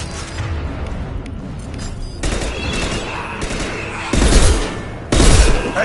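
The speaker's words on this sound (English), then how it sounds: "Firing a high-impact shot!" A heavy weapon firing high-impact shots in the video game Mass Effect 2, booming blasts near the end, two sharp loud bursts over a rumbling battle backdrop, with voices speaking earlier.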